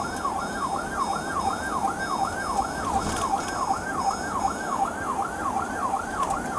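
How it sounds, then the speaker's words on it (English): A wailing police siren cycles rapidly and steadily up and down, loud and close, over a low rumbling engine with no talking. "you can kill your sirens"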